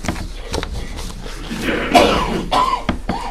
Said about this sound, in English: Don't all cough at once.